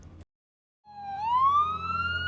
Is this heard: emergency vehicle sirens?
yes